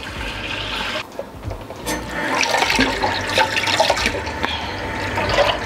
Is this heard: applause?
no